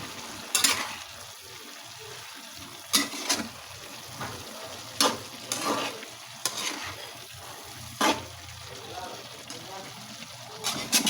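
Adobo cooked with dried papaya is stirred in a pan, with a steady low sizzle broken by repeated sharp scraping strokes of the spoon every second or two, close and moderately loud.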